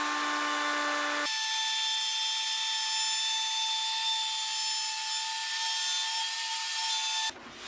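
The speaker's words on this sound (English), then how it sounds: "After flattening, I took little bit sanding and chamfering." Steady hand sanding and chamfering along the wooden edges of a camping folding table, a continuous dry rasp running for several seconds with a brief change in tone at the start and end.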